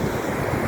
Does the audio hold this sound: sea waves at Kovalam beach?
yes